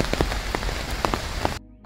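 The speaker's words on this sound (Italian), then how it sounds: "Arrivati con la pioggia." Rain falling on a drive through Germany in an electric Fiat 500, a dense patter of drops striking a surface close by, with a few sharper taps, before it cuts off abruptly near the end.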